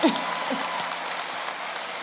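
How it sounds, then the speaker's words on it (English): A commencement audience at a Nashville State Community College ceremony held at Lipscomb University breaks into steady applause, a dense wash of many hands clapping at an even level throughout. "And yes, let's clap."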